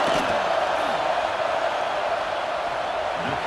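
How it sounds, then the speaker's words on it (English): A football stadium crowd at an NCAA college game between Ohio State and Georgia roars steadily as a field goal attempt is lined up, a continuous, distant wash of cheering and noise without gaps. "This crowd trying to do its part to get inside the kicker's head."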